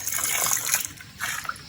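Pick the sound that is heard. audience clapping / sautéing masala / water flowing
water flowing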